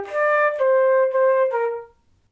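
Solo flute plays a short phrase of a song, a few sustained legato notes over about two seconds, clear and close with no talking.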